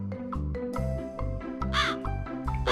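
A crow caws repeatedly, loud and close, harsh calls coming in a quick irregular series.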